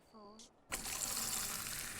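A pint of beer poured in the video game Fable II: after a brief tonal sound, a sudden steady gush of liquid starts and runs unbroken to the end.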